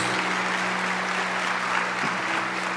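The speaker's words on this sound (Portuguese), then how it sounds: "Vamos aplaudir poderosamente a palavra de Deus." A congregation applauds after a Bible reading at a Catholic religious gathering, the clapping loud and sustained as a continuous crowd wash, with a faint low hum running underneath.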